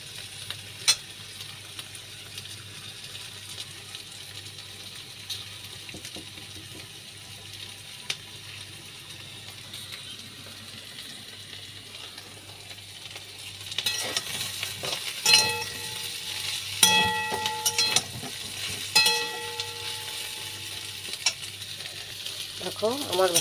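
Okra frying in a pan, a soft steady sizzle that gives way to louder clattering scrapes and taps of stirring in the second half, with no voices.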